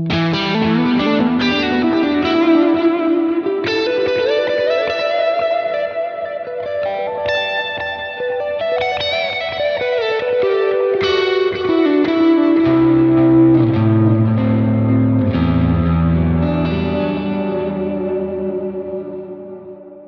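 An electric guitar played through a Line 6 Helix preset with drive, delay and reverb rings out in sustained, distorted chords and notes with long echoing tails, loud and continuous with no talking.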